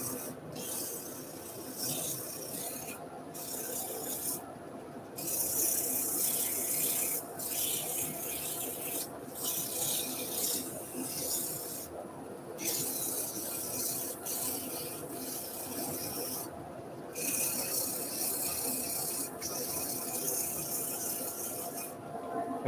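A wood-turning gouge cuts a button box spinning on a lathe, giving a steady close rasping, hissing scrape that runs throughout with brief dips where the tool eases off.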